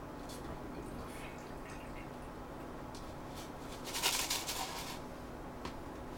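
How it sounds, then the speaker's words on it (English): Isopropyl alcohol is poured out and swirled during a rinse after washing PTFE powder off keyboard switches, with soft dripping and trickling that swells into a brief louder splash partway through, close by and fairly quiet. "Pour out the alcohol. Let's give it one more rinse."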